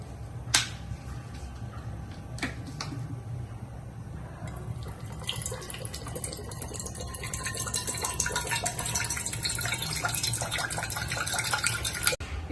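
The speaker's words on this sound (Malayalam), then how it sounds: "ആ 500 ml നമുക്ക് ഒഴിക്കാം" Water, 500 ml, poured into a pressure cooker for wheat payasam: a steady splashing pour that builds slightly in loudness over several seconds, with a few small clinks near the start.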